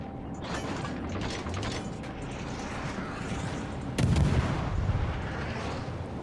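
Warship guns firing in World of Warships while the ship steams at full speed ahead, a low mechanical rumble broken by one sharp, heavier blast partway through.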